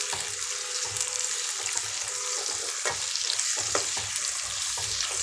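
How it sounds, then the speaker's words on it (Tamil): Ginger and garlic frying in a pan for milk vegetable pulao, a steady close sizzle with occasional spoon scrapes and clinks throughout, no voices. "இதெல்லாம் நல்லா கொஞ்சம் பொரிஞ்சு வரட்டும்"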